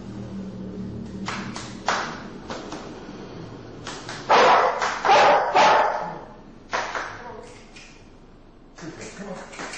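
A dog barks in several short bursts, some loud and close, others sharper yips, at a commercial tavern, with a low background murmur and thumps between the barks.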